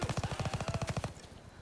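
Rapid automatic gunfire in a first-person shooter rattles out in a tight burst of about a dozen evenly spaced shots, loud and close, then stops abruptly into quiet.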